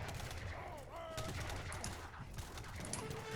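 Artillery cannons firing in the strategy game Age of Empires III, a busy run of repeated booming thumps and crackling shots over constant battle noise, with faint tonal game effects mixed in.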